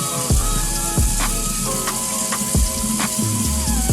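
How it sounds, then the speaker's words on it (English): Water splashes in short bursts over a running faucet during a skincare routine, as cleanser is worked into a lather on the face; close and fairly loud, no talking. "Then I go in with a little bit of water to work up a lather."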